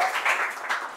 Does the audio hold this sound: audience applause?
yes